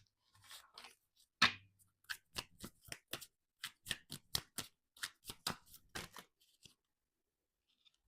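Angel Number Oracle cards are shuffled and handled close up in a long run of quick, crisp flicks and riffles that stop abruptly, with no talking.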